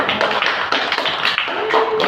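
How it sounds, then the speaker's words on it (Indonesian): Students in a classroom clap together in a dense, steady burst of applause lasting a couple of seconds, close and fairly loud with no talking. "Tepuk tangan."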